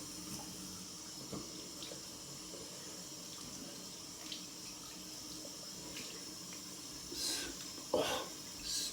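Water runs steadily from a tap during rinsing, a continuous faint hiss with a few splashy surges near the end, with no talking.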